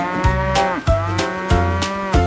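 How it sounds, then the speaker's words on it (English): Cartoon farm cows mooing in a kids' song, loud close repeated moos in quick succession with accompanying musical plucks and rhythmic beats, no talking. "With a moo moo here"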